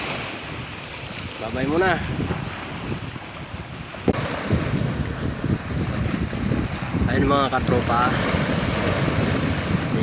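Sea waves growing and surging along the shore at Dammam Corniche, a rough, steady wash buffeted by wind on the microphone, with someone talking over it.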